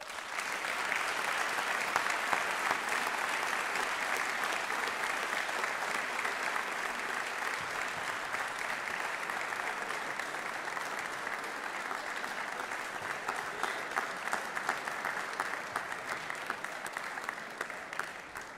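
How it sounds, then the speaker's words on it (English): A crowd gives sustained applause for an athlete at a school sports awards event, dense steady clapping that carries on for a long stretch without fading. "So one more round of applause for Jason Fine."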